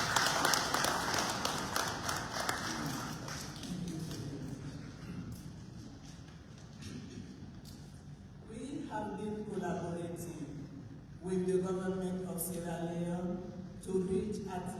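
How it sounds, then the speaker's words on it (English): An audience at a UN Women event on female peacekeepers in Sierra Leone claps, a scattered, moderately loud patter of hands that swells and fades, mixed with a speaker's amplified voice over a hall. "Can we clap for them?"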